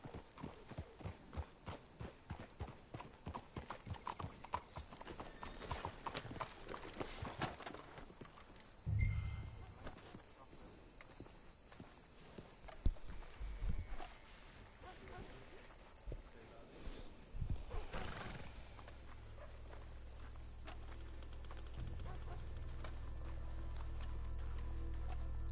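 Horse hooves clip-clop in a steady rhythm in Red Dead Redemption 2 while voices talk, with a few heavier thumps and a rising rumble toward the end.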